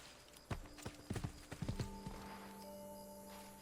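Horse hooves in Assassin's Creed Brotherhood clip-clop in irregular bursts of several steps, fairly close, with a faint whinny and soft tones in the background.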